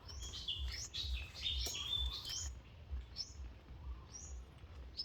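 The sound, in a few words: birds singing at mangrove boardwalk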